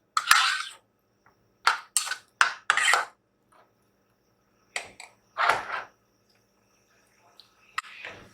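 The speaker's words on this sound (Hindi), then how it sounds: "अब हम इसको मिक्स कर लेते हैं ताकि जितना भी मसाला जो है ये गोश्त के ऊपर कोट कर जाए" Fried beef being stirred with spices in a pan: a series of short metallic scrapes and clinks come in separate bursts with silent gaps between them, close and moderately loud, and no talking.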